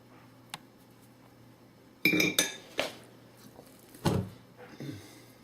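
Butter-tart dough being scraped off metal mixer beaters, giving a few sharp clinks and scrapes in quick bursts against a quiet kitchen background.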